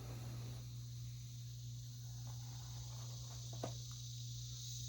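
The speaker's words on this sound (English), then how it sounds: "the cicadas get louder." Cicadas drone steadily in the background with a faint howler monkey somewhere in the distance, a constant, far-off buzz with no voices.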